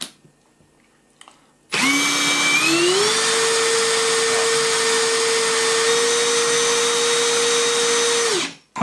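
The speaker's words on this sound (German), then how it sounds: "Das ist auch bei dieser Maschine so, dass im zweiten Gang das Bohrfutter deutlich unruhiger läuft." A Parkside Performance 20V cordless drill runs with its chuck spinning in second gear, a steady high motor whine that rises slightly in pitch as it spins up, holds for several seconds, then winds down, close and loud.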